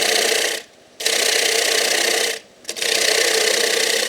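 A wood lathe spins while a tool cuts down a tenon on a turned piece, making a loud continuous rasping scrape broken by two short pauses as the tool lifts off the wood.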